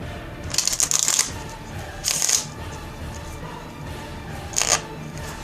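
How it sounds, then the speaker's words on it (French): A deck of playing cards riffle shuffled up close: three crisp, fluttering bursts, the first two longer and the last one quick, with quiet gaps in between. "vous pliez le jeu. Et ensuite vous avez plus qu'à relâcher la pression pour que les cartes s'entrecroisent"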